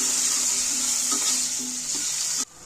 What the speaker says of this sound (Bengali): এই তেলের মধ্যেই আলুগুলোকে একটু ভেজে নিচ্ছি।